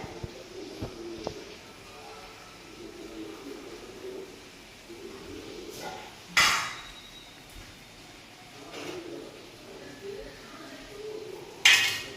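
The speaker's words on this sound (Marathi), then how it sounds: "आता एवढी भांडे घासून घ्यायची" Dishes being washed in a home kitchen, with a few sharp clinks of metal pots and utensils scattered over steady low background noise, including a louder clatter near the middle and another near the end.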